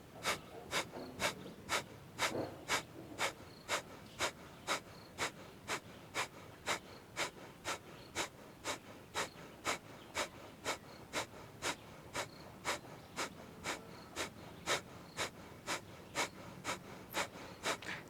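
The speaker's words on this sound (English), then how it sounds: "I'm gonna start with the Kapalabhati pranayama." Rapid forceful nasal exhalations of Kapalabhati pranayama yoga breathing, about two per second, steady and rhythmic for the whole stretch, close and fairly soft with no talking.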